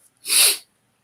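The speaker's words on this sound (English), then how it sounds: "I don't know why all of a sudden I started sniffling." A single short nasal sniffle or snort, one breathy burst about a third of a second long, close and fairly loud, then silence.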